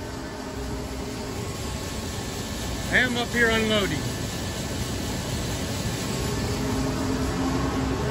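A big farm tractor engine drones steadily in the cab during unloading at harvest, a constant broadband rumble with a faint steady hum, while someone speaks briefly over it near the middle.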